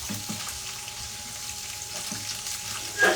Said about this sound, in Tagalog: Niluto lang ako ng sauteed French beans na may salted egg.